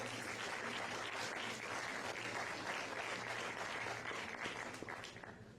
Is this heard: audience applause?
yes